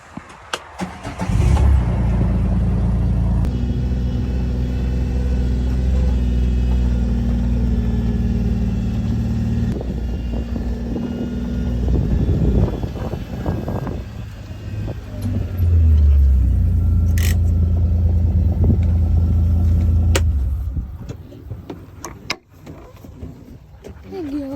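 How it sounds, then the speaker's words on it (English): Outdoors beside a chicken coop, a steady low roar of wind and passing road traffic fills the air, swelling and easing as cars go by, with faint speech and occasional bumps over the rumble. "it's probably loud from the wind, the cars"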